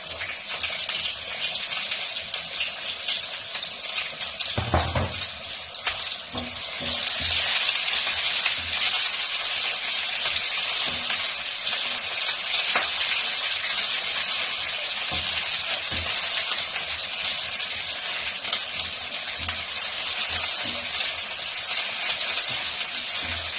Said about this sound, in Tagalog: mainit na yung mantika ko. Lalagyan ko na siya ng sibuyas.